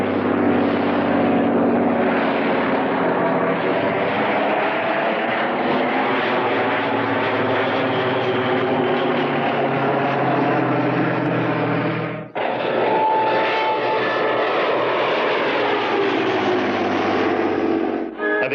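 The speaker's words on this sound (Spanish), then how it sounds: "Escuchen el sonido de este Falcon 12 cilindros, 260 caballos." A 260-horsepower Rolls-Royce Falcon 12-cylinder engine on a Bristol Fighter biplane, a loud continuous propeller drone with a brief dip partway through before it resumes at full roar.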